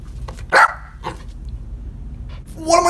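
A corgi barks sharply once, then gives softer yips and whimpery sounds at moderate distance, with a low steady room hum underneath.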